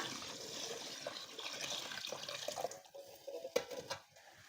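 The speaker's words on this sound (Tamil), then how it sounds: "நல்லா சூடாக இருக்கிற தண்ணியை இப்போ உள்ளே சேர்த்து கொடுத்துக்கோங்க" Hot water pours in a steady gushing stream into a pot of fish biryani, then tapers off into a few splashes and clinks.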